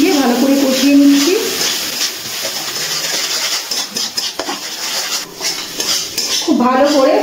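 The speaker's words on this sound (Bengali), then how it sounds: "এবার সব মশলা একসাথে মিশিয়ে ভালো করে কষিয়ে নিচ্ছি।" Spices for a banana-flower dhoka are stirred and sautéed in a pan, with a metal spoon scraping and clinking close up over a soft sizzle, and a voice heard briefly at the start and end.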